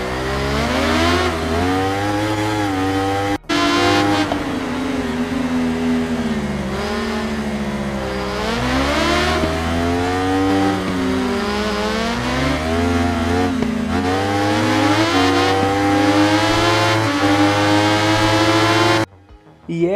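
A crossplane four-cylinder motorcycle engine revs repeatedly, rising and falling in pitch with a rough, uneven growl, loud and close for a sustained run before cutting off abruptly at the end.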